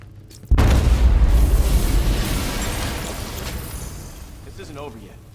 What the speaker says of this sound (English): I'm not far enough away to detonate the explosive.